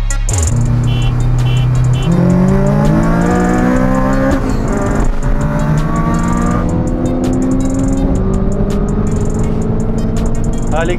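Skoda Octavia tuned to 300 hp racing a naturally aspirated Acura RSX, a loud engine note climbing steadily in pitch through the gears, sustained and close throughout with no talk.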